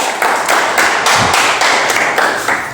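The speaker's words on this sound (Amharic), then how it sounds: "አጨብጭቡለት።" An audience claps at a live poetry and literature event, producing steady, dense, loud applause that carries on without a break for the whole stretch.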